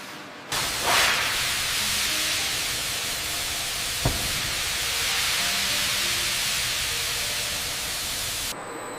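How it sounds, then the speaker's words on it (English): Pressurized steam hisses steadily into sealed stills loaded with bay laurel leaves for essential oil distillation, a loud, continuous broadband rush with one sharp click partway through before it suddenly cuts off. "Pressurized steam enters the vessels to release essential oil."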